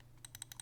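A Corsair Katar XT gaming mouse with its side buttons pressed, making a quick run of about five faint, close, light clicks with no other sound.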